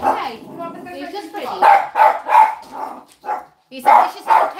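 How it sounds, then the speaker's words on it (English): A small Cairn cross terrier barks in a string of sharp, close yaps with short pauses between, mixed with whimpering yips, loud and clear. "He's a vicious little terrier and thinks he's a lot bigger than he is."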